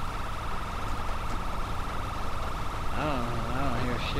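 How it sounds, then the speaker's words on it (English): A police siren blares continuously nearby, its wailing tone steady throughout, with a voice speaking over it toward the end. "Your siren's blaring."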